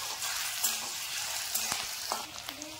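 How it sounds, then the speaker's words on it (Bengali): Potatoes and vegetables fry in a pan, a steady broadband sizzle with occasional clicks of stirring, close and moderately loud throughout with no talking. "আলুটা দিচ্ছি, এক এক করে সব সবজিগুলো এইভাবে ভাজবো"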